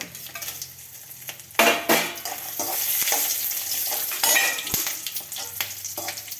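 Dry red chillies roasting in hot oil for homemade idli podi, with a steady sizzle and frying hiss, stirring scrapes and a few sharp clinks of a utensil against the pan, and no voices.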